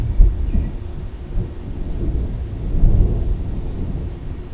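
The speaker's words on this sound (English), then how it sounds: "There's the thunder." Low rumbling thunder during a storm, a deep continuous roll with a few swells, heard alone with no speech.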